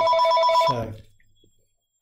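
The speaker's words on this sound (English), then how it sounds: "Sorry about the phone going." A telephone rings with a bright electronic trill that sounds for under a second and then fades out, while a voice speaks briefly over the end of the ring.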